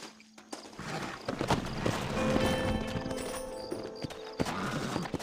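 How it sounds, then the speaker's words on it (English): Horse hooves clip-clop in Red Dead Redemption, a brisk, uneven string of close, hollow thuds with some rustling and a low tone running underneath. "Horses are over here!"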